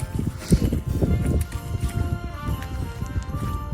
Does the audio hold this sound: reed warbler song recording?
no